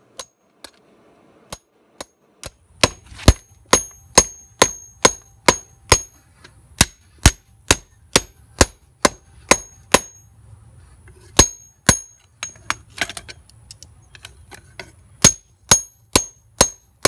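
A hammer strikes lawnmower blade steel on an anvil beside a small two-brick forge, with sharp ringing blows in steady runs of about one per second, a few scattered single strikes between bursts, loud and close.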